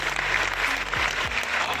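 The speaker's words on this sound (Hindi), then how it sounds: "ताली बजाओ यार," A college audience claps in a lecture hall during a talk, a short burst of steady, dense applause heard alone for under two seconds.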